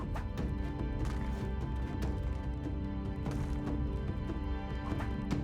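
Horse hooves clip-clopping in a video game, a steady, fast run of close hoofbeats with faint rhythmic thuds layered over continuous game ambience.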